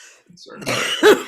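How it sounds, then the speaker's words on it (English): A single rough throat-clearing chronic cough, close and loud, lasting about a second. "I have a chronic cough"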